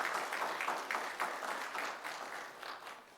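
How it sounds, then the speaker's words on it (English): A city commission meeting audience gives a round of applause: soft, somewhat distant clapping that runs continuously and slowly thins toward the end. "give them a round of applause for all the work that they do in our city"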